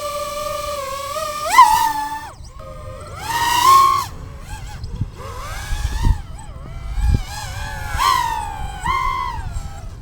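A high-pitched propeller whine repeatedly rises and falls as a DJI Avata FPV drone in sport mode zips past several times, screaming loudly on each pass.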